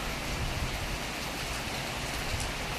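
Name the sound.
rain falling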